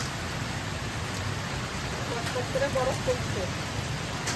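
Storm rain falls in a continuous, close wash of patter and hiss, while a voice briefly murmurs partway through over the steady downpour.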